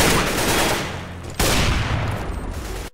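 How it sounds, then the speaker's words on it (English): Dense burst of rapid gunfire in Counter-Strike Global Offensive, fired blindly into a smoke cloud, loud and continuous with a brief break partway through. "First, you randomly shoot in a smoke."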